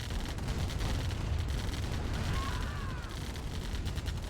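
Dense, continuous rattle of minigunner gunfire and distant explosions in the real-time strategy game Command & Conquer: Tiberian Dawn, a steady wall of battle noise with no pauses.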